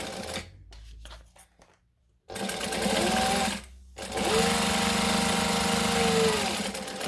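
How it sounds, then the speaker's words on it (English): A domestic sewing machine stitches along the bottom edge of fabric pieces placed right sides together, running in two close, steady whirring bursts separated by a brief pause, with soft handling noises at the start. "I'm going to stitch along the bottom"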